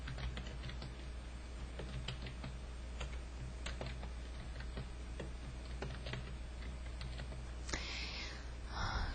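Typing on a computer keyboard, a steady stream of fast soft key clicks close by over a low hum, continuing for several seconds without speech.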